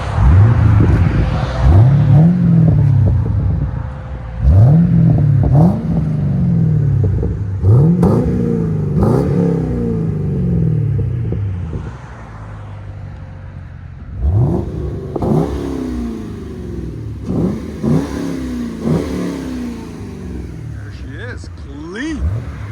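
A white 2014 Chevy Camaro 2SS with a 6.2L V8, X-pipe and Magnaflow exhaust revs repeatedly close by, each sharp climb falling back to idle, with people talking over the blips.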